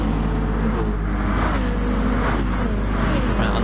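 A Viper GT1 race car in a Gran Turismo race at Suzuka gives a loud, continuous engine drone with shifting pitch, heard up close without a break for the full few seconds.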